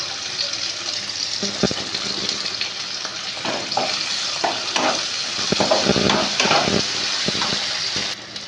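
Ginger-garlic paste and chopped tomato frying in a pan for a boal fish curry, a close, steady sizzle with spoon stirring and scraping strokes throughout.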